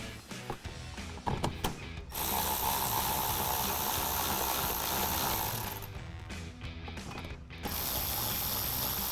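Four 5.5mm screws are driven into the underside of a 2005-2009 Mustang front bumper, a close, steady ratcheting and whirring mechanical buzz broken by short pauses and clicks.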